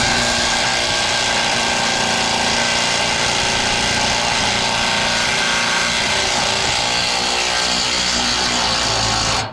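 A Milwaukee power tool, likely an impact driver, works loose a greasy bolt on a bed truck, a loud continuous mechanical drone with rattling that runs steadily for nearly ten seconds and then cuts off abruptly at the end.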